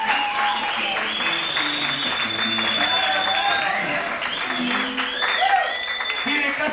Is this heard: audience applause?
yes